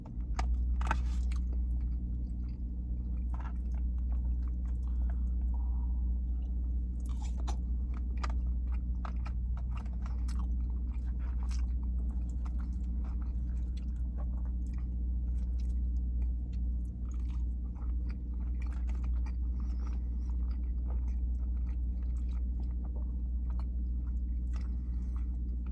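Asada fries are chewed close to the microphone, with wet crunching bites and steady mastication repeating over a constant low background hum, no talking.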